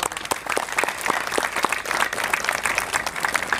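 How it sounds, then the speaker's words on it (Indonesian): An audience claps at a talk by Ida Pandita Mpu Natha Jelantik on reviving the Javanese Hindu community, with dense, uneven hand claps rattling continuously and close at moderate loudness, and no speech over them. "Nah itu, tepuk tangan dulu."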